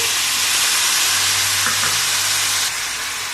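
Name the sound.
water added to sugared vermicelli sizzling in pan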